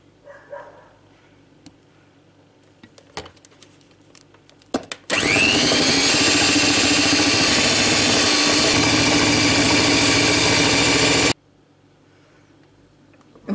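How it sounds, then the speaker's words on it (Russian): An electric mixer whips egg whites with sugar, a loud steady whirring drone that starts abruptly, runs about six seconds without letting up and then cuts off, with quiet kitchen clatter before and after. "Во взбитые белки добавлю сахар и опять взобью хорошо."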